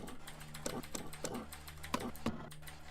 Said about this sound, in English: My keyboard clicking is probably so damn loud when I do this.